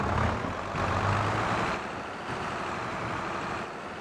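A tractor engine in the video game Farming Simulator 22 runs at a steady idle, a loud, close, low diesel rumble that shifts slightly in pitch and level, with no talking.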